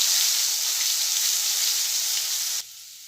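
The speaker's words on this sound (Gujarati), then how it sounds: "તો આપણું લસણ આદુ મરચાં સંતળાઈ ગયા છે" Garlic, ginger and chili paste with a pinch of asafoetida sizzling steadily in hot oil, a bright even frying hiss that cuts off abruptly near the end, leaving a faint quieter hiss.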